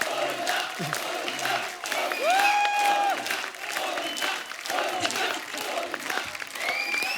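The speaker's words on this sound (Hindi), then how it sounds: "जोरदार तालियां गोविंदा सर के लिए।" A live studio audience on a comedy talk show applauds and cheers for the actor Govinda, with steady, dense clapping and crowd noise filling the whole stretch, a few brief whistle-like tones rising above it.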